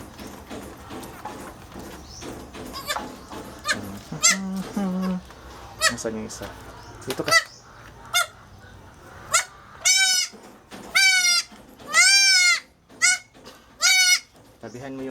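Several noisy farm goats bleat loudly and repeatedly, a wavering, nasal series of calls that grows denser toward the end, with a voice speaking briefly early on amid shuffling movement.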